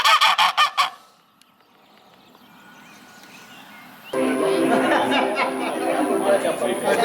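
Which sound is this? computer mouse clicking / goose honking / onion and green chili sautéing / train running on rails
goose honking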